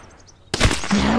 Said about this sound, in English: Kinda need to shoot him.